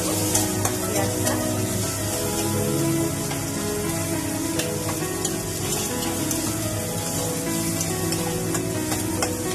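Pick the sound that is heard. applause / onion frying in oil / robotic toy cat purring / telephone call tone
onion frying in oil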